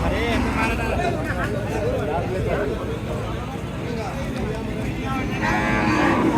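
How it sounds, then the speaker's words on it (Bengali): Cattle moo repeatedly at a busy rural Qurbani cattle market at Hazratpur. The lowing calls rise over a constant crowd hubbub and nearby talking. "দেখতেই পাচ্ছেন সুন্দর সুন্দর গরু কিন্তু চলে এসেছে"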